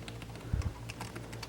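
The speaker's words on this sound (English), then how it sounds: "so let's say I want to type a new sentence" Keys clatter in a steady patter on the keyboard of a Visual Land Prestige 9-inch Windows 10 tablet, close and fairly loud over a low background hum, with no talking.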